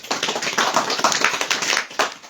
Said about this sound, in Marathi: टाळ्या वाजव त्यांच्यासाठी एकदा